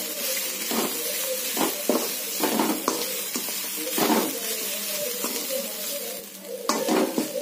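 Grated coconut stirred and sautéed with onions in a pan, a constant sizzle broken by rhythmic scraping and tapping strokes of a spoon against the pan, close and clear with no talking.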